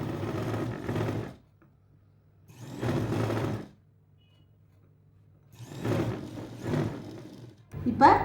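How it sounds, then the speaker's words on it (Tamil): A sewing machine runs a straight hem along a blouse lining in short bursts, with several stitching runs separated by near-silent pauses and a steady low motor hum, close by. "இப்போ கீழே மட்டும் நேராக 1/2 இன்ச்சுக்கு ஒரு தையல் போட்டுருவோம்."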